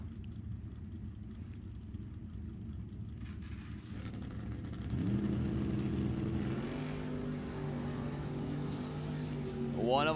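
Drag racing cars including a 1964 Falcon on the strip at an NHRA Summit Racing Series Division 7 E.T. Finals, a steady loud engine rumble that swells midway with rising revving tones, continuous and close.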